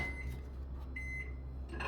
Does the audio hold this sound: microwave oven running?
yes